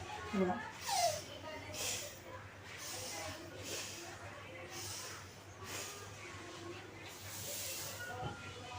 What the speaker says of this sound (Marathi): श्वास घ्यायचा श्वास सोडायचा